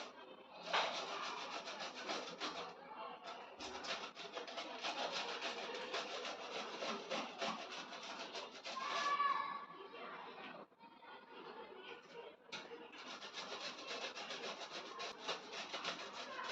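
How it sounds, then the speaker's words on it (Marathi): A cucumber with its peel left on is rubbed against a grater in fast, raspy scraping strokes that run almost without a break, with a short pause and faint background voices. "मी इथे साली सकटच काकडी किसून घेते"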